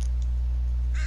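A crow in the survival video game The Forest gives a couple of harsh caws, loud and near, over a steady low in-game hum.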